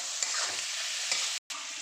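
Black cumin, tomato and onion frying in hot oil for a Bengali fish curry, a steady close sizzle with faint stirring scrapes and a brief cut near the end.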